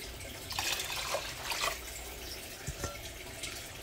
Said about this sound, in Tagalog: Ngayon, lagyan na po natin ng tubig.